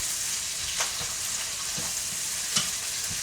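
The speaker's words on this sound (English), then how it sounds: "I'm frying up those onions. We are actually putting a brown on some onions deliberately." Steady, close sizzling of onions browning in an oily hot pan, with a few soft clicks and scrapes from stirring.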